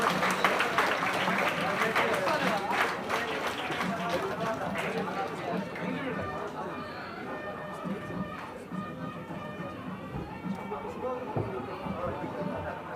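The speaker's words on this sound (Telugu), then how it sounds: "గట్టిగా చప్పట్లు కొట్టాలి." An audience at a state merit test award ceremony for top-ranking school students claps in a dense, sustained burst, with crowd voices and an announcer mixed in throughout.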